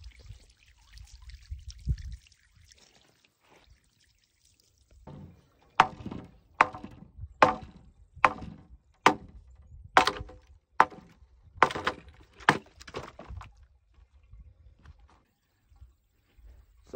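New wooden boards go up at a cattle water tank on a ranch, with about ten sharp, evenly spaced hammer knocks in a row after some quiet handling and a faint trickle of water.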